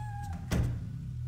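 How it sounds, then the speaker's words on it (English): A cat meows inside the Fatal Frame 3 video game: a short tonal mew near the start, then a hollow knock or thunk, over a low steady game hum. "I heard kitty."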